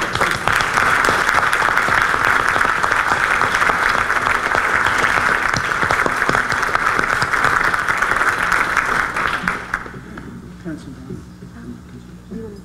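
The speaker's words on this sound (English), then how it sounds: "please stand so we can give you a round of applause for taking time out and being here today" Warm, dense applause from an audience at a legislative breakfast for the regional center's staff, about ten seconds of sustained clapping that suddenly thins out, with voices audible beneath it.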